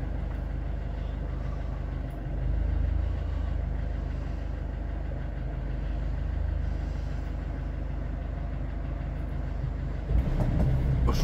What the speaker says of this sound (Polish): Czerwony tramwaj leci.